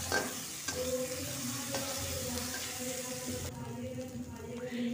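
Finely chopped onion fries in oil for an egg curry, giving a continuous soft sizzle with occasional stirring scrapes. Faint music plays in the background, and a little speech is heard.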